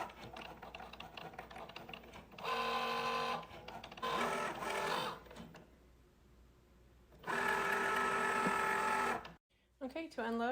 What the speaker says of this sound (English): once it's loaded properly, you click go back in Cricut Design Space, and it'll start cutting.